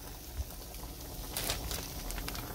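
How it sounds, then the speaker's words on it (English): Raw shrimp sauté in a pan with garlic and onion, giving a steady, close sizzle with a crackling spatter that grows a little busier toward the end. "I'm just like sauteing them with garlic and onion"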